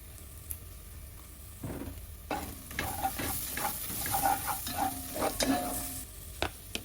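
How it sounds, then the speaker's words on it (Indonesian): Galangal and bay leaves stir-fried with spice paste in a pan for sweet-and-sour beef, a soft sizzle with scraping spatula strokes and clinks that grow busier toward the end. "Tumis sampai bumbunya harum. Masukkan lengkuas yang udah digeprek, terus daun salam,"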